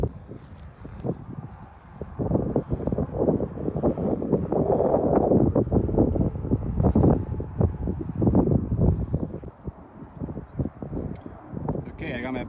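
Gusty wind buffets the microphone on a desert day hike along the Historic Railroad Trail at Lake Mead, a loud rumbling roar that rises and falls while someone talks over it.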